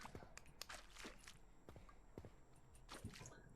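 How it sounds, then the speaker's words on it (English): Heavy footsteps of a character walking in a 3D Godot game, a series of irregular thuds and scuffs at moderate, fairly quiet level over a steady background hum. "His footsteps. There's some heavy footsteps."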